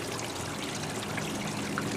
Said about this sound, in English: We're actually getting a little bit of water running down off the edge here, running down this edge.